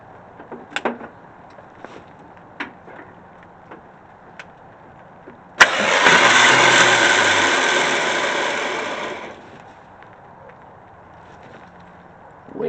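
A car engine cranks with its starter wired straight to the battery terminals, a single loud, steady grinding burst of about four seconds after a few light clicks and knocks.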